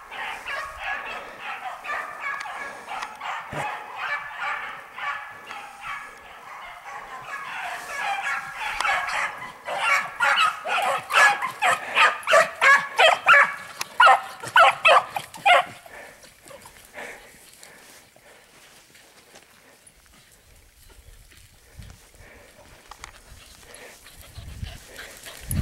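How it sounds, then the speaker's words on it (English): Hound pups give chase to a hare outdoors, yelping and barking in rapid overlapping bursts that swell loud and busy through the middle, then thin out toward the end. "here come the pups"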